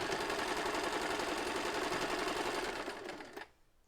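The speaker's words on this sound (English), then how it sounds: "We're gonna drop the foot. And we're gonna sew. Sew and back sew." A sewing machine runs forward and then in reverse for a back stitch, making a steady, close mechanical whir with rapid needle chatter. It cuts off sharply near the end and leaves near silence.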